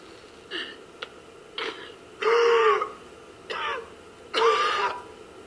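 Franklin coughs after smoking in GTA 5, a series of about five rough throat-clearing coughs and hacks, the later ones harsher and longer, close and alone against quiet background noise.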